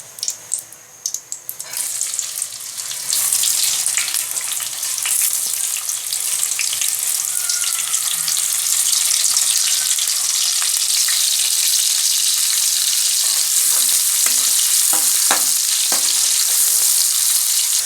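Loud, continuous sizzling of onions frying in hot ghee, a bright crackling hiss that swells after a few scattered pops and stays steady throughout.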